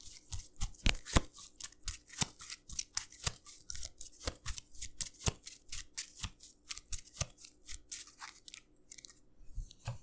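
Cards being shuffled for the Arkham Horror card game: a long run of quick, crisp riffling snaps and flutters in steady bursts, close and fairly quiet, with no talking.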